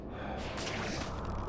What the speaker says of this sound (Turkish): Nefese kalıyor soluk soluğa.